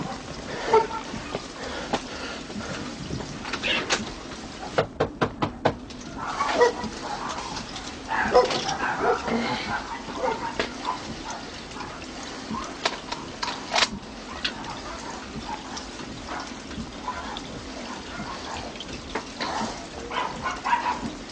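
A dog barks and whimpers intermittently outdoors during a police shooting incident, with sharp yips and whines scattered over steady background noise and a few brief clicks, heard at moderate distance.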